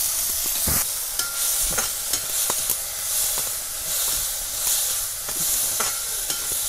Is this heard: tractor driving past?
no